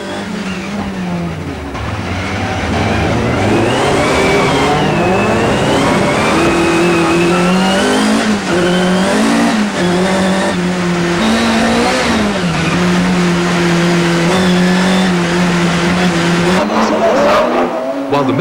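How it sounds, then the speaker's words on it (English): Race cars howl and rev on an ice circuit at the 1993 Trophée Andros in Val Thorens, including a BMW and an Opel Corsa, with rising and falling engine notes, sliding tires and a loud, close onboard sound. "A race cam was also fitted to the BMW driven by Philippe Bugalski"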